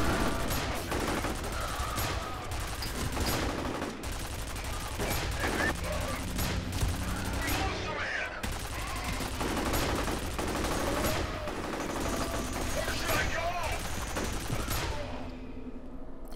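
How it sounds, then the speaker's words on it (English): Rapid turret gunfire in the video game F.E.A.R., dense repeated bursts of shots rattling through the whole stretch, loud and close, with a player's voice talking over parts of it. "Oh, I'm controlling the turret."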